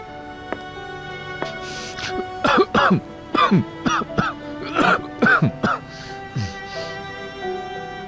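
A series of harsh, throaty coughs in a quiet room, coming in short clustered bursts with brief pauses, close and fairly loud.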